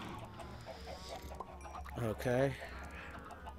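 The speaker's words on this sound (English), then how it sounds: "now we'll go in here with the chickens" Minecraft chickens in a video game give a few short clucks near the middle, quiet under background game noise, with someone speaking briefly alongside.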